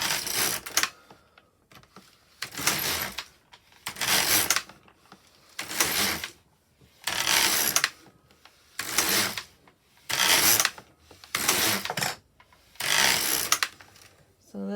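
An LK150 knitting machine carriage is pushed back and forth across the needle bed, giving about nine evenly spaced rattling, clacking passes with short quiet gaps between rows.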